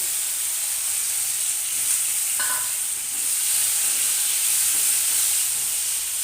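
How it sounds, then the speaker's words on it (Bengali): Raw mango pieces seasoned with salt, turmeric and a little sugar frying lightly in a pan, a constant loud hissing sizzle with faint stirring scrapes, close and without talking. "এটাকে ফ্রাই করে নিচ্ছি হালকা।"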